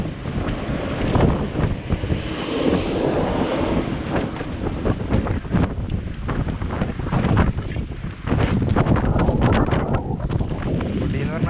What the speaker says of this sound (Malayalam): കാറ്റ് വീശിനായിട്ട് പേടിയാണ്.